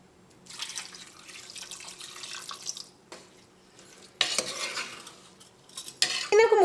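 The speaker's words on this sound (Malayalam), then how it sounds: "ഈ ബീഫ് വേവിക്കാൻ ഇതിലേക്ക് നമുക്ക് ആവശ്യത്തിന് വെള്ളം ചേർക്കാം." Water splashes into a pot of spiced beef in bursts of pouring, broken by a few clinks of utensils against the pot, close and fairly loud, with no speech.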